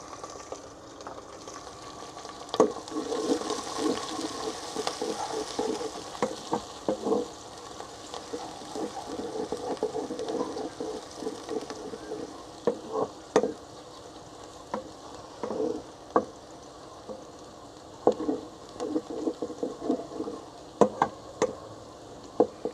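Onions and green chilies frying in a pan for village-style moong dal, a soft steady sizzle with intermittent scrapes and knocks of stirring throughout.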